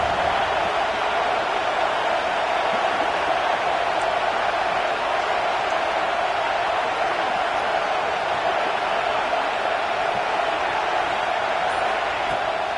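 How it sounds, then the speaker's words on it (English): Loud, steady roar of a stadium crowd making noise on third down in a college football video game, Georgia vs Texas A&M, a dense unbroken wash with no individual voices standing out. "This dog crowd is off the leash, and they are coming after them, bringing noise on 3rd down."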